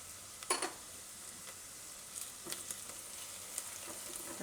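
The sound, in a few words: spices sizzling in hot oil for pumpkin khichdi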